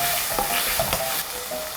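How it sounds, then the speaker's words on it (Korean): Button mushrooms, shiitake and bamboo shoots being stir-fried in a wok with rice wine and soy sauce, a steady loud sizzle broken by a few scraping stirs and clanks, with no talk. "다시 한번 볶아줍니다."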